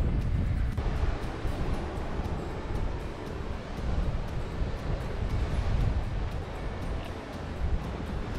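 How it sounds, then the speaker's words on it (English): Strong coastal wind on a clifftop track at Kamay Botany Bay National Park roars steadily with heavy low rumble and buffeting against the microphone, constant and loud throughout with no pauses. "Alright, so it's very windy."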